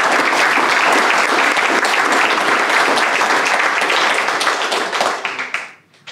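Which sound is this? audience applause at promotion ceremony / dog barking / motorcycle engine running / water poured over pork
audience applause at promotion ceremony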